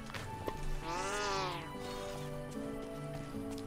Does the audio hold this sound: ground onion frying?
no